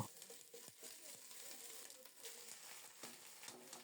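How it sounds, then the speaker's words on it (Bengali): Green chilies with ginger paste and cumin paste fry in mustard oil while being stirred in the pan, giving a soft, continuous sizzle with light scraping and crackle, faint and close, with no talk. "তিন চারটা কাঁচামরিচ দিয়ে দিলাম আদা বাটা আর একটু জিরা বাটা দিয়েছি সব মিলিয়ে নেড়ে চেড়ে কিছুক্ষণ ভেজে নেব"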